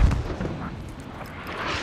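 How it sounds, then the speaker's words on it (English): A heavy mortar blast booms near the start in a Squad battle on an Afghanistan map, followed by a rumbling, noisy tail with no voices. "Watch those mortars."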